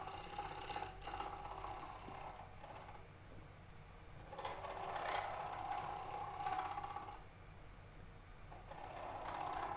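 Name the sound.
bowl gouge shaving wood on a lathe, live edge bowl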